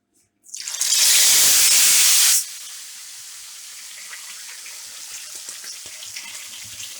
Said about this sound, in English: I'm now gonna put the fish in the frying pan